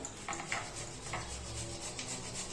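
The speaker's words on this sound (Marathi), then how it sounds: "आता आलू शिलून घेऊ, आलू किसून घेऊया।" Potatoes are rubbed against a kitchen grater for aloo parathas, a faint, continuous scraping rasp with soft repeated strokes close by.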